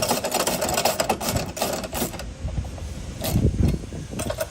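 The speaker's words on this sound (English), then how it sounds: "7/32 Allen driver." A 7/32 Allen driver tightens the bolts on an Ekko cab step during installation, giving a close, busy whirring and clicking mechanical rattle in short runs.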